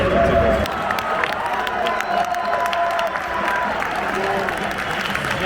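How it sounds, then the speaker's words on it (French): Football supporters in the stadium applaud after the Coupe de France semi-final between Dunkerque and Paris Saint-Germain, a broad, sustained wash of clapping and cheering from a large crowd, with voices heard over it. "le peuple qui applaudit"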